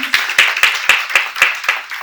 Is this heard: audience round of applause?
yes